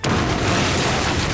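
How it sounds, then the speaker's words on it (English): A massive IED blast goes off beneath a British military convoy at a road junction, a loud, dense roar of sound that fills the whole moment with sustained broadband noise. "I heard a massive explosion behind me"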